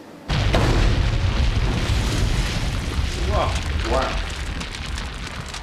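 A high explosive shell detonates at barbed wire in a Somme battlefield test, set up as a point-detonation burst: a heavy, sustained boom with rumbling debris that slowly fades, and a voice briefly exclaims partway through.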